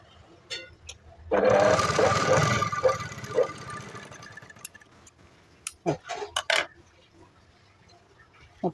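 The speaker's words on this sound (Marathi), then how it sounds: "एकदम कडेकडेवर शिलाई घेऊन" A domestic sewing machine runs a steady, fairly loud stitch along the edges of a piece of fabric for a few seconds, then stops; scattered handling clicks and rustles follow.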